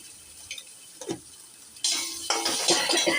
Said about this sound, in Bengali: হালকা একটু জল দিয়ে দিচ্ছি।